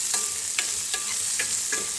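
A spoon stirs ingredients roasting in a pan for Bhogi special amti, with about five rhythmic scraping strokes over a soft, steady dry sizzle and no talking.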